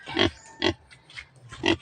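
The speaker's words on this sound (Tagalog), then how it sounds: "Andito guys yung baboy ng anak ko guys." A pig grunts in three or four short, close bursts spaced about half a second apart, with quiet pauses between them.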